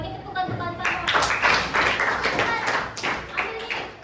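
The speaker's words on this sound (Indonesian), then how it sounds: "Oke, bagi tepukan kamu." Classroom clapping from a group of students, a dense patter of many hands that swells and continues through the moment, with a voice talking over it.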